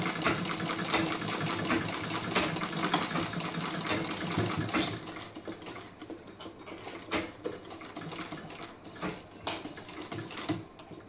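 An electric sewing machine stitches a garment's shoulder seam, a loud, busy mechanical whirr running steadily at first and then breaking into shorter, uneven bursts with clicking pauses.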